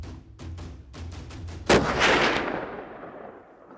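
A single loud rifle shot from a hunter firing at a deer out west cracks sharply and rolls away in a long booming echo, preceded by faint rhythmic rustling footsteps.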